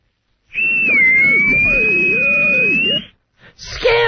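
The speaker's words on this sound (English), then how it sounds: "You want me to whistle deeper? I can do it deeper." A man whistles a single sustained tone on a radio talk show, steady and fairly loud for about two and a half seconds, followed by a short burst of noise.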